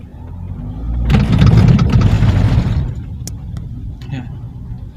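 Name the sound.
Toyota Alphard wheels hitting simulated rough road, steering noise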